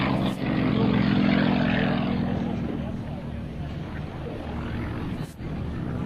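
An aerobatic propeller airplane drones overhead at the 2004 Cold Lake International Airshow, its engine note swelling loud and then easing as it passes, with someone commenting over it.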